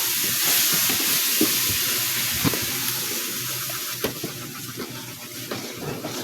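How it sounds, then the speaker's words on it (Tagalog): Fish frying in a pan, a steady broadband hiss and sizzle with occasional soft pops and clicks, continuous and fairly close, no talking over it. "Okay, ayan piniprito ng misis ko"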